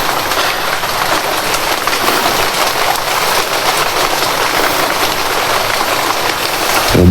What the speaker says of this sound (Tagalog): So, baka lalakas tong ulan tol.